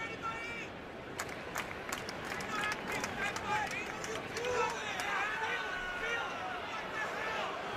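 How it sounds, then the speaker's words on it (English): A baseball stadium crowd during a Yankees and Blue Jays game rises into a lively roar, with scattered claps and shouts building, while a close voice talks over it. "Now you can start to hear the crowd getting involved."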